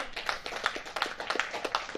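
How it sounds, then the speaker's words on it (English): A smattering of applause at a United States Military Academy graduation ceremony, a few scattered claps in a loose, uneven rhythm, fairly close and moderate in level, with no voices over it. "Smattering of applause."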